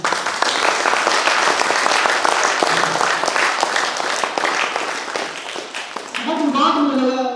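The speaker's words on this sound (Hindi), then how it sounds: "एक बार ताली हो रहा है आप लोगों।" Audience at a product training session breaks into loud, sustained applause that fills the whole stretch, with dense clapping throughout and a voice speaking over it near the end.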